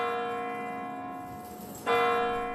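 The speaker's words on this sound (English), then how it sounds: "The chiming of the Kremlin's clock tower marks the arrival of a new president" Kremlin clock tower bells ring out in a sustained, resonant chime, with a fresh strike at about two seconds that renews the ringing tones.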